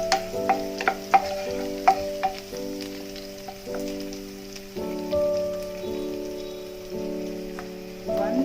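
Coriander leaves frying in a pan for a tomato rice dish, a steady close sizzle and crackle with scattered pops and soft stirring, no talking.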